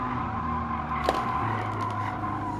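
A racing car in Gran Turismo 7 braking hard, with a steady engine drone and a brief tire squeal partway through, close and continuous.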